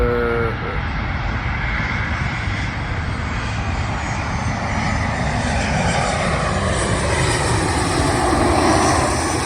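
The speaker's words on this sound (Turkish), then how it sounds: "Gördüğünüz gibi döne döne bir uçak geliyor. Boeing 737." A Boeing 737 jet airliner approaching to land roars loudly and steadily overhead, a broad continuous engine rumble with a high whine, growing slightly stronger toward the end.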